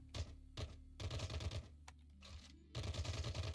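Pistol fire in the Caves of Qud roguelike: rapid clicky retro shot sounds in quick runs, over a steady low droning background.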